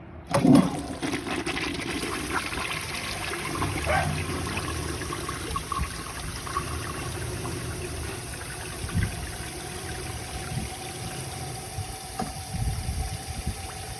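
A 1953 Gerber Arlington toilet flushes with a sharp initial rush, then a long, steady gurgling drain and refill trickle that lasts the whole stretch, close up and fairly loud, with no talking.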